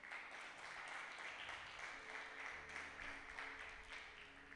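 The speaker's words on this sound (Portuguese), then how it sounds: "Dê uma salva de palmas para o Senhor." Congregation applause inside a church service, a steady wash of many hands clapping at moderate level, sustained throughout with faint background tones underneath.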